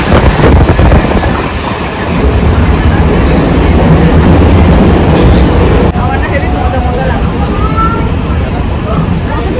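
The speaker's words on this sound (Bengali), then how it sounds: "ট্রেনে করে কোথাও যাচ্ছি" A passenger train runs along the tracks in a loud continuous rumble with rhythmic clatter heard from inside the carriage, while people talk over the noise.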